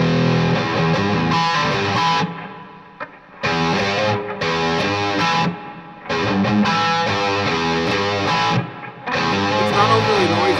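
An electric guitar plays through a Teisco distortion pedal set to high gain, with thick, saturated chords and riffs in loud bursts separated by brief near-silent gaps.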